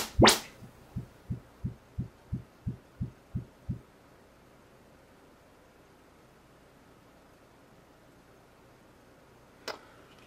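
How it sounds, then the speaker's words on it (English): Calibration tones from a Denon receiver running Audyssey MultEQ XT32 setup: a bright burst, then a row of eight evenly spaced low thumping pulses, a long quiet stretch of room hiss, and another sharp burst near the end. "the whoop whoop whoop sounds are gonna come out"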